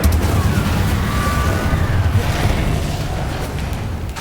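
An Incendio fire spell cast in Hogwarts Legacy on Xbox Series X, a loud booming burst of flame that rumbles and roars, then slowly fades, with no voice over it.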